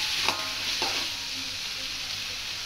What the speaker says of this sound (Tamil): இப்போ எண்ணெயில் நல்லா வதங்கிட்டோம்